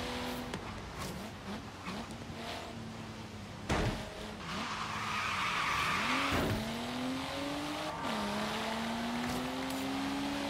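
Race cars roar and skid in Forza Horizon 3, with engines droning and rising in pitch while tires squeal loudly through corners. The sound is continuous and close.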